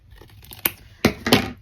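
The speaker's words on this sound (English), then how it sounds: "Cut this edge off." Scissors snip through old thrifted photo paper, trimming an edge off a sheet: two or three crisp, close cuts with a sharp paper rasp, each following a faint click, in an otherwise quiet room.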